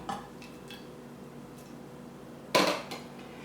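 A slotted spoon lifts boiled vegetables out of a pot: faint metal taps and scrapes at first, then one louder clatter against the pot near the end.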